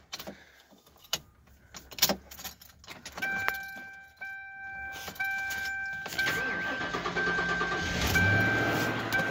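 A 1999 Lincoln Town Car starting cold after sitting a week: jangling keys and clicks first, then a chime, the starter cranking and the engine catching into a steady idle, close and rising in level.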